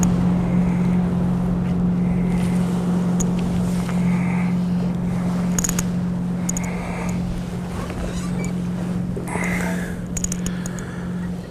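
Continuous drone of a motorboat engine on the water, steady and fairly loud, with wind buffeting the microphone and faint splashing.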